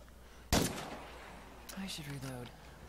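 A single sharp gunshot cracks out near the start in the video game State of Decay 2, followed by trailing rumble and voices talking over game background noise.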